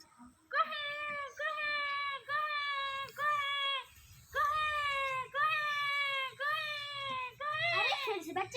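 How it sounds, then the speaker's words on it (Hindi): A baby crying in repeated, evenly spaced wailing bursts, close and clear, with short pauses between cries and nothing else around it. "फिर से बच्चे की रोने की आवाज आ रही है"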